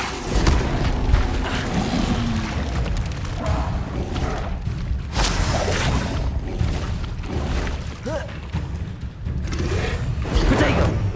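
Spell combat in the video game Hogwarts Legacy, with a Levioso cast among dense booming thuds, whooshes and crashing impacts that sound loud and continuous, no speech.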